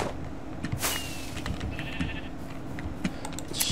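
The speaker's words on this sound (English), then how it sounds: "Alright, so there is a sheep." A Minecraft sheep bleats several times in short wavering calls, fairly quiet and close, with faint game clicks and effects around it and no talking.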